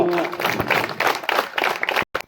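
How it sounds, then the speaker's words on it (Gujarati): A crowd claps steadily at a groundbreaking ceremony for the new building of Dumlav main school, dense applause filling the space for about two seconds before cutting off sharply. "તાળીઓ પાડજો"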